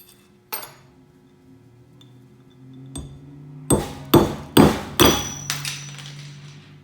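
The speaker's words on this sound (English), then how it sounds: "let's just take our fluted nail and see how we do with that" A fluted nail is driven into building material with a hammer: a few light taps, then a rapid run of five or six sharp, ringing metallic blows close by, with no talk.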